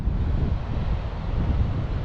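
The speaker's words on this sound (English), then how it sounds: "So I'll give you a 5-second or so clip just to watch the waves" Sea surf at Gouritsmond, South Africa, a continuous broad wash of waves on the shore mixed with heavy wind buffeting the microphone, steady and loud with no voices.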